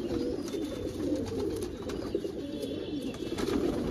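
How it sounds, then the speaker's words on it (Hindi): A spotless, unmarked bedag pigeon coos in a low, continuous throaty rumble, close by and repeating without pause over a soft background hiss. "ओरिजिनल बेदाग कबूतर हैं"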